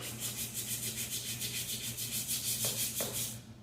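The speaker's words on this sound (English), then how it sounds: "Now we're just going to go back with a piece of sandpaper and hit the little spots that tough to get or wouldn't come off" Hand sanding with a sheet of sandpaper on an old part being prepped for powder coating, rhythmic back-and-forth rubbing strokes in a quick steady series, close and clear, ending with a couple of soft knocks.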